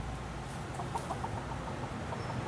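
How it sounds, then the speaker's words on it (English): A chicken in a tree on a Key West back street gives a few faint clucks, set against a low hum of outdoor background noise. "There's a chicken rustling in the tree right behind it."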